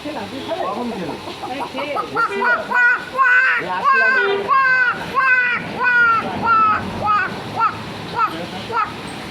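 A voice mimics a waterhen's call with rapid, repeated rhythmic bursts, loud and close, in a steady pulsing series lasting several seconds.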